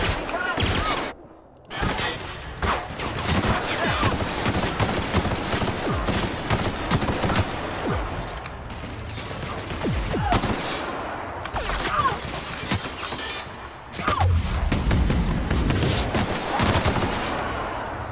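Gunfire in The Outer Worlds video game rattles in dense, rapid volleys for most of the stretch, broken by brief pauses, with a voice talking over the shooting.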